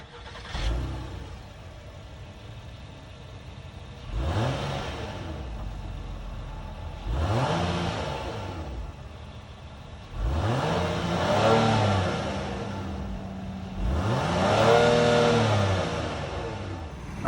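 A 2022 Acura MDX's 3.5-liter VTEC V6 fires up, then gives four rising-and-falling revs in steady succession, each swelling loud before settling back to a close, steady idle.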